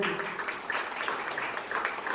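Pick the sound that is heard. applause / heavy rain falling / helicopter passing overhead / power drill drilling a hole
applause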